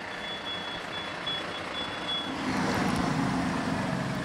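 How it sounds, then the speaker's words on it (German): A fire engine pulls up at a fire scene in Hamburg, a distant truck engine rumbling with a repeated high reversing beep, faint and steady, its engine growing louder toward the end. "Erst jetzt trifft das erste Löschfahrzeug ein."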